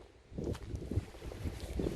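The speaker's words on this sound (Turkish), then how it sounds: "Dışarıda çok fazla rüzgar var." Strong wind buffets the microphone outdoors at a villa near Altınkum beach, a low rumbling roar that gusts unevenly throughout.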